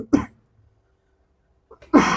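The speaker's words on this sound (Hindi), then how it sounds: "खांसी आना स्टार्ट हो गया मेरा" Two sharp coughs, one at the start and a louder, rougher one at the end, separated by a quiet pause.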